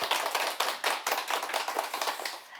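Audience applause at a Catholic talk on the Book of Revelation given by a priest, steady dense clapping from a crowd with rhythmic swells, fairly close and filling the room, fading slightly at the end.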